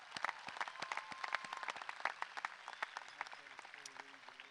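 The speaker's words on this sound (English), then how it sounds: "And that is a round of applause." Scattered applause from a high school graduation audience, individual claps distinct and irregular, fairly faint and thinning toward the end as a few voices come through.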